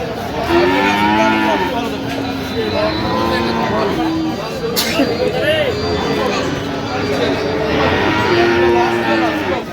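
Friesian and crossbred bulls moo repeatedly and loudly, several animals calling one after another over a steady background of crowd babble and voices at Aftabganj cattle market, Dinajpur, Bangladesh.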